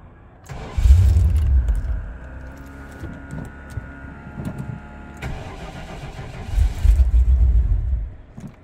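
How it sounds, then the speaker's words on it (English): A 1988 Pontiac Fiero Formula engine cranks, catches with a loud rumble and then dies under a security lockout; the sequence of cranking, a brief run and a stall is heard twice, close and loud, with no talking. "fire up and immediately die means it's currently in security lockout because we pulled the battery out"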